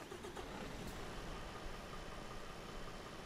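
Mercedes truck engine in Euro Truck Simulator 2 turning over and settling into a steady idle, a continuous mid-pitched rumble that stays even and fairly quiet throughout.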